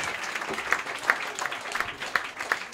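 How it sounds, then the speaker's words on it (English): A comedy roast audience claps, a steady patter of applause with sharper bursts throughout, mid-sized crowd close by. "Round one, clap it up for both these guys."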